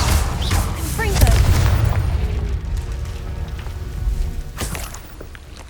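A Confringo fire-blast spell in Hogwarts Legacy goes off with a heavy, rumbling boom, followed by crackling debris and a decaying roar. A character's voice briefly overlaps the start.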